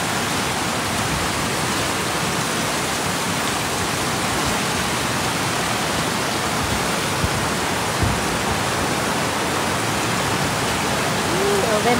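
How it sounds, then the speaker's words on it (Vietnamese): Swollen river or stream rushing hard after a short rain, a dense, steady roar of water filling the whole clip, loud and close, with little variation. "bây giờ này mưa một lúc thôi mà nước to như thế này ấy nhỉ"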